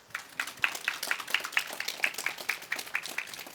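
Audience applauding after a lecture by ecology writer Kim Sung-ho, producing a steady patter of moderate, somewhat distant clapping with rhythmic bursts, without speech over it.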